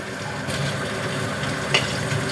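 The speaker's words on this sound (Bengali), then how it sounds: "এবারে এই মাছগুলো সব ভেজে নেব।" Koi fish fry in hot oil in a pan, a dense close sizzle that stays steady and loud throughout, with no voices over it.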